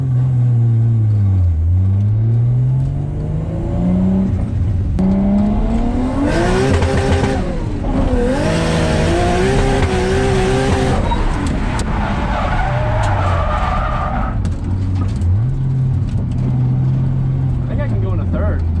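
A drift car is pushed around a race track, its engine revving up and down in sweeping pitch changes, with bursts of tire squeal and skidding in the middle, loud and close, while people talk over it.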